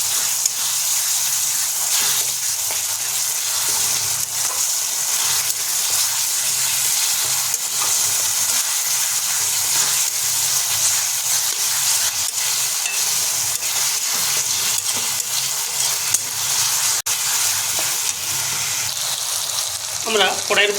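Ginger and garlic paste fries on a low flame in a pan, a loud, steady sizzle with a faint bubbling hiss running unbroken throughout, heard up close.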